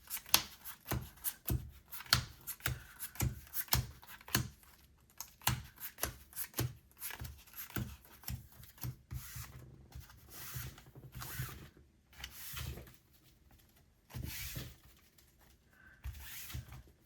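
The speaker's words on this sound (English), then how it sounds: "And yes, I pile shuffle." A deck of cards pile shuffled, with rapid rhythmic taps and slaps as cards are dealt into piles, then softer flutters and riffles near the end, close and quiet with no talk.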